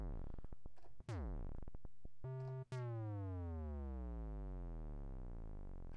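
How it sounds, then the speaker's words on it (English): Synthesized drum and bass drops from Reason 6, made with an inverted oscillator pitch envelope: several sharp pitched sweeps glide steeply downward, loud and electronic, with brief gaps between them and no voices. "I can get that sort of that drum and bass drop."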